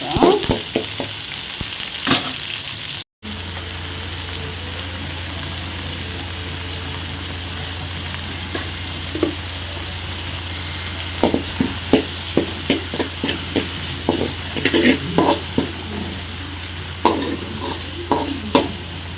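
Onions sizzle and fry in a pan for a fish curry, a constant crackling hiss with intermittent scraping stirs growing more frequent in the second half, and no voices.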